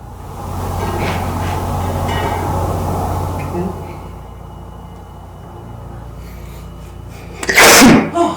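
A loud, close sneeze bursts out near the end after a stretch of rumbling, train-like background noise during a ghost hunt on a road trip.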